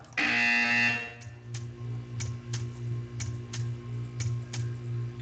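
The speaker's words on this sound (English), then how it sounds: "You will hear a buzzer." A harsh electronic buzzer from the Portal 2 video game blares for about a second, followed by a steady, regular ticking over a low hum.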